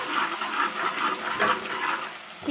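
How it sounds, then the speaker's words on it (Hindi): A small onion fries in four spoonfuls of ghee, giving a steady bubbling, watery sizzle at moderate loudness with gentle pulsing surges. "और घी को हम करते हैं फ्राई"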